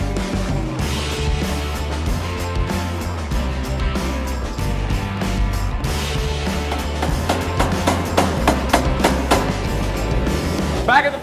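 Heavy rhythmic pounding from a power hammer forging hot steel for throwing stars, repeated blows building toward the end over constant loud workshop machinery hum.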